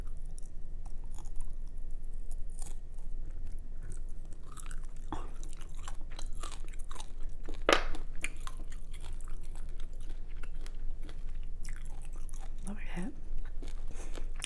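Close chewing of Korean BBQ short ribs with crunchy vegetables, soft wet mastication and occasional crisp crunches at a quiet level, with brief talking in the background.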